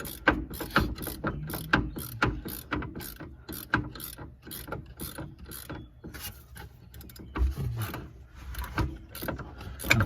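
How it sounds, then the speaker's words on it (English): A ratchet wrench works a fine-thread shock absorber bolt, producing close, crisp clicking strokes in a steady back-and-forth rhythm that repeats throughout. "it makes it easier to run the wrench through there"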